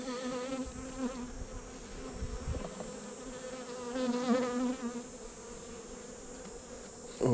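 Honey bees buzzing around an open hive frame of fresh comb, a continuous close droning hum with wavering pitch as individual bees pass near, fairly quiet and alone.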